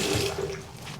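Tap water runs into a bathroom sink in a building in Oslo, Norway, for hand washing, a brief, soft, steady splashing stream.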